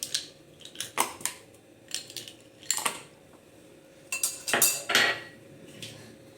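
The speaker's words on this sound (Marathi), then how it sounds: "याच्यात आईस क्यूब्स घालूया" Ice cubes go into a mixer jar of mango milkshake with a series of sharp clinks and clatters, some single, some in quick clusters, close and fairly quiet.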